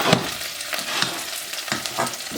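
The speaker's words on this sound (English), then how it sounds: "I'll be sauteing this." Ingredients for pumpkin soup sauté in a pan, giving a soft, steady sizzle broken by a few faint stirring scrapes, heard close and without talk.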